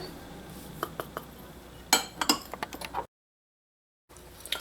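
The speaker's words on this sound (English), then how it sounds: "Whisk to combine." A whisk clinks and taps against a bowl while cornstarch and salt are beaten into an egg mixture for pastry cream, giving a quick burst of close metallic strokes that stops abruptly, then resumes after a short silence.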